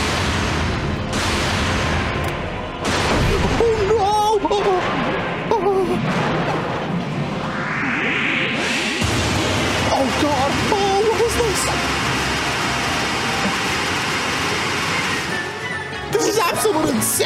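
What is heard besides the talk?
boss cannons firing in Kirby's Return to Dream Land Deluxe video game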